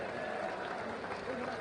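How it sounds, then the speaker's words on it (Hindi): A crowd at a rally in Indore applauds to welcome defence minister Rajnath Singh, a steady wash of clapping with no breaks, heard from a distance and with a voice over it. "जरा जोरदार एक बार तालियां बजाकर अभिनंदन करें"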